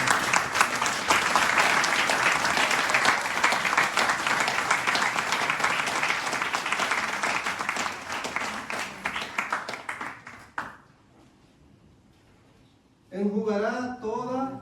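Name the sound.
church congregation applause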